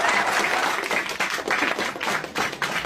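Applause and clapping from a crowd, a dense, continuous patter of many hands, fairly loud and steady throughout, with slight swells and brief dips.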